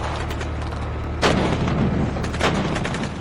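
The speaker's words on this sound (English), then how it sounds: "A round explodes near the disabled BTR" Rounds exploding near a disabled Russian BTR armored vehicle: two sharp, heavy blasts about a second apart, each a sudden booming burst above a constant roaring background, with no voices.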